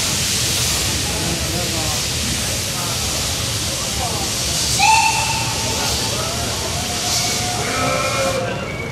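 A steam train hisses steadily and loudly nearby, with a brief whistle-like tone rising partway through while people talk underneath.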